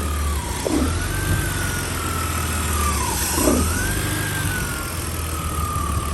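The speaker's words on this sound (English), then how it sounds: "The way it's idling does not sound the greatest." A crashed BMW E46's engine idles roughly and steadily with a low, uneven rumble, while faint whistling tones rise and fall in the background.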